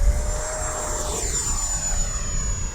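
A jet aircraft engine roars steadily during takeoff, with a continuous loud rumble and a sustained high whine sweeping slightly in pitch.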